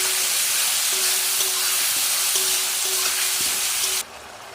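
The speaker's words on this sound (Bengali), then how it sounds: "আলুটা ভাজা হয়ে গেলে এখন সমস্ত মশলাগুলো দেবো" Potatoes and spices sizzle steadily in a hot pan on a home stove, a loud even frying hiss with a faint recurring tone beneath, cutting off abruptly near the end.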